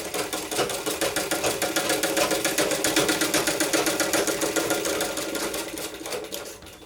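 A sewing machine runs a line of top stitching on a child's A-line frock for ages two to three. It makes a close, loud, rapid and steady rattling chatter that slows slightly and stops near the end. No one speaks.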